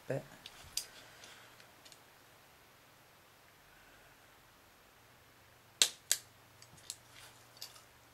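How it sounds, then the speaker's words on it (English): Plastic tabs on a fake PS3 controller shell get trimmed, making a few short, crisp snips and clicks at the start and a cluster near the end, separated by quiet stretches of faint room hiss. "what I've got to do is just trim these little tab bits there a little bit"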